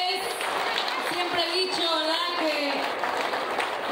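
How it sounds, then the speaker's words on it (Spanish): Crowd applause at the inauguration of a patron saint fair, a continuous wash of clapping with a loud voice and cheering or singing over it, fairly close and busy throughout. "hay que dar un fuerte aplauso a nuestro patrón"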